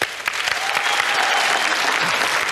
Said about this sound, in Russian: Семен Бздых, ваши аплодисменты!